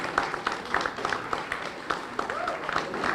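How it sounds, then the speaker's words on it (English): Scattered applause at a summer youth program presentation, with sparse distinct claps at moderate distance, while faint crowd murmur and a voice carry underneath. "Give them a round of applause."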